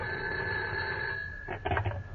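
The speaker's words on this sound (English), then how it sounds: "But then my phone rang." A telephone rings in a 1954 radio drama, a steady bell-like tone held close, followed by a few rattling bursts of ringing near the end, with no talk over it.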